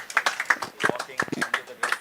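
Teammates clapping for a batsman at a cricket match, a quick run of sharp, irregular claps from a small group close by, with voices talking and calling over them.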